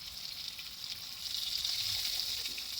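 Steady, soft crackling sizzle of fish frying in oil, a continuous hiss that swells slightly partway through, with no voices.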